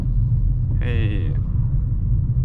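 Steady low rumble of a car driving through Stockholm, the engine and road noise constant and close, with a brief higher tonal sweep partway through.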